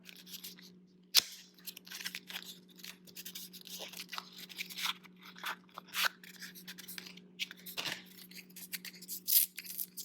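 Scissors snip and crinkle through plastic packaging in short, sharp bursts over a low, steady electrical hum, close and fairly quiet.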